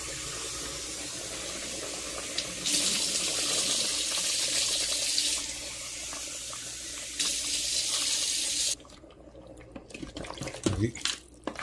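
Water running from a tap into a pot, a cup's worth added to mutton curry in an Instant Pot, a steady broadband splash in two louder bursts before stopping, followed by faint clinks.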